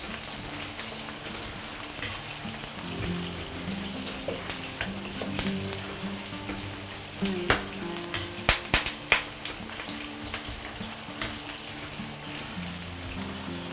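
Chopped scallions frying in hot oil in a wok over high heat, a continuous crackling sizzle with scattered sharp pops and occasional utensil taps, close and steady.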